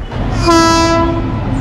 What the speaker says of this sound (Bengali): ট্রেন ঢুকে পড়ল 13141 তিস্তা তোরসা এক্সপ্রেস।